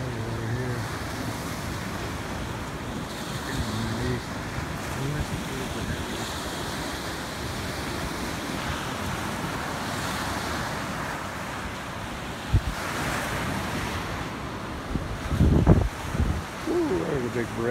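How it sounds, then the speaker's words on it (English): Stormy surf rolls onto a lake shore under gusting wind, a steady broadband roar of breaking waves with heavier crashes near the end and buffeting wind noise on the microphone; faint voices may sit beneath. "We got waves rolling in here today over here."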